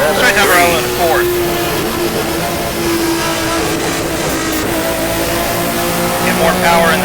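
A BMW M1 in the rFactor racing game powers out of a corner and accelerates down a straight, its engine revving hard and steadily up through the gears while someone talks over it.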